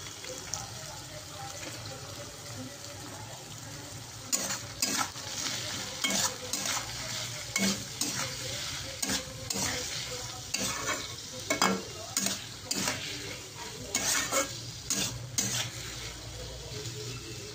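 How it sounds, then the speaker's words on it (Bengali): Chowmein ingredients seasoned with salt and turmeric fry in a pan over medium-high heat, with a constant sizzle broken by repeated scraping stirs that clatter in quick bursts, close and clear. "এবার এটা লো টু হাই মিডিয়ামে ভাজা করতে দেবো"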